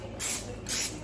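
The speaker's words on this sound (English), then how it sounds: "So we're gonna use some more olive oil spray and spray the tops lightly." Olive oil spray misted over the tops of potatoes in two short, close hissing bursts, with no talking.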